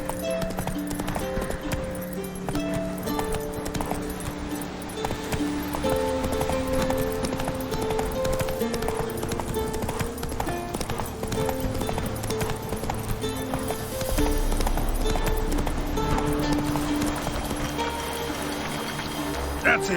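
Roach the horse galloping in The Witcher 3, a steady rhythmic clip-clop of hooves under game music and ambient noise, with some talk over it.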